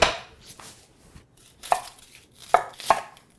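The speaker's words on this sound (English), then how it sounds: "I'm gonna slice up 2 cups of onions" Knife chopping onions on a cutting board, a handful of crisp, separate cuts close by with short pauses between them.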